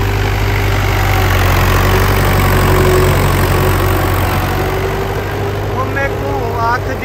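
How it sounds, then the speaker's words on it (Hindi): A tractor engine runs in a farm field, a steady, loud, low rumbling drone that holds evenly throughout, with a voice faintly present under it. "तो आप देख सकते हैं मेरे पीछे जो ट्रैक्टर चल रहा है"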